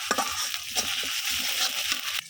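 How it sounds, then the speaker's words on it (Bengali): Ginger-garlic paste sizzles and fries in a pan as it is stirred, a continuous close crackle broken by scraping strokes of the spoon, with no one talking. "এখন আমি সুন্দর করে আদা রসুনটা ভাজা ভাজা করে নেব।"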